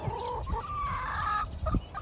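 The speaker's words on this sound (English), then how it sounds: "Look at that black and white chicken." A black and white backyard chicken gives a few close clucks and drawn-out calls, alone, against a steady low farmyard hum.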